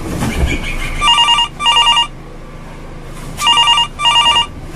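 A telephone rings in two double-burst electronic trills, a pause, then two more, loud and near over a noisy room background.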